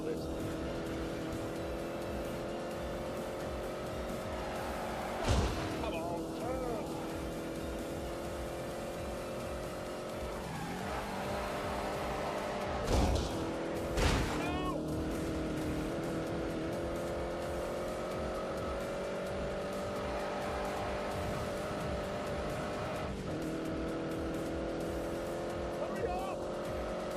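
Car engine in The Grand Tour video game, a steady droning drive with changing revs, occasional tire squeals and thumps, heard under someone talking throughout.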